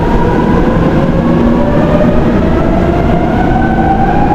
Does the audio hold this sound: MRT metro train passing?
yes